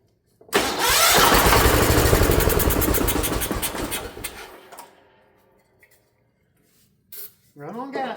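A Ford LGT 145 garden tractor, long left in a parts yard, cranks and catches on gasoline, running loud and rough for a few seconds before dying away, followed by a short stretch of talking.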